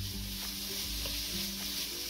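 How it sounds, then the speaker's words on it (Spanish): Bacon frying in a clay pot and rendering its fat, giving a steady broadband sizzle throughout with a low background hum, close and even, with no one talking. "Ponemos el tocino para que suelte ahí la grasita."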